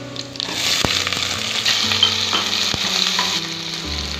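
Chopped onions sizzle loudly in hot oil in a pan for rava upma, with a steady frying crackle and a few sharp clinks of a spoon stirring throughout, and no talking.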